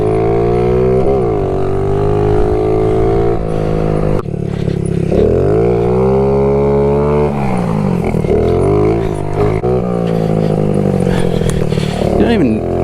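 A Honda Z50R mini dirt bike ridden over rutted ground, its small engine buzzing and revving loudly and continuously with rising and falling pitch as it downshifts, close up, with wind and rattling throughout.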